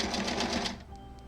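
A sewing machine stitches a quarter-inch seam on a Broken Dishes quilt block, giving a short, close, steady run of rapid stitching that stops abruptly, followed by quiet.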